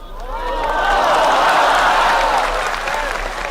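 An audience inside a mosque claps together in a sustained, steady burst of applause that rises quickly and holds at full strength with some crowd noise mixed in.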